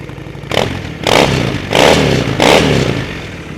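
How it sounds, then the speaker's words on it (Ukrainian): A Honda Shadow Phantom motorcycle engine idles with a steady low rumble, then revs sharply four times in a regular rhythm, each burst loud and close. "Запустимо двигун. О, який приємний звук."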